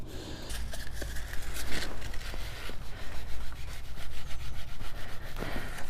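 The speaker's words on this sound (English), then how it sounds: "all that work I've done yesterday, and I'm sanding it back slightly" Steady abrasive sanding rubs back freshly repaired paint on a motorcycle clutch casing in an open-doored workshop, a continuous rasping scrub with rhythmic strokes and no talking.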